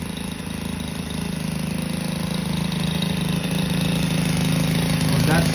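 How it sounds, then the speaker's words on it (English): Small Senix four-stroke weed eater engine idling nearby with a steady, even putter that rises slightly toward the end, no voices. "So that's how the engine sounds. It's not too loud. It's like a little 50cc motorcycle."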